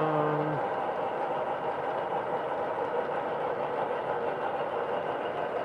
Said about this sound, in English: Steven says you can hear the train